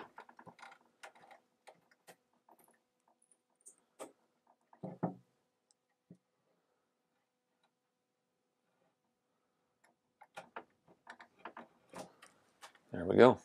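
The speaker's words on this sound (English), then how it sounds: "I'm just going to take a rough gouge out of it" A chisel gouges a rough splinter from the edge of a rustic wooden chest: sparse light taps and brief scrapes in near silence, then a louder close scraping burst at the end.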